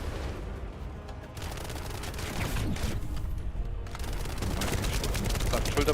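Gunfire in the shooter game The First Descendant, bursts of rapid shots and impacts crackling densely over the game's background din, with someone talking over the action.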